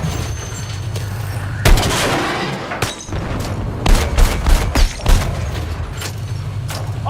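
Gunfire in Battlefield 6, with a dense run of loud shots and bursts, several sharp cracks clustered near the end over a steady rumbling background.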